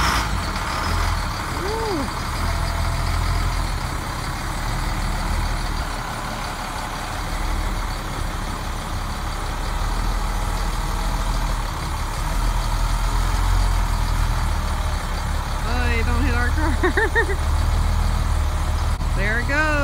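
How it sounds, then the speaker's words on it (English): A school bus rumbles out of a parking lot, its diesel engine idling and pulling away with brake hisses and squeals, heard from close by while people chat over it. "It's our bus going out of the parking lot."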